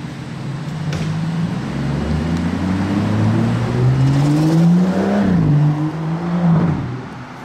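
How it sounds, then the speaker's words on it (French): The V12 engine of a 2025 Aston Martin Vanquish hums and rises in pitch, swelling and easing as it revs. It is loud and close, with no talking over it. "On entend un peu le V12 hein."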